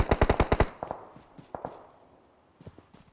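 Gunfire in the mobile game BGMI on the Sanhok map: a rapid burst of six loud shots, then scattered fainter single shots and footstep-like taps, with no talk.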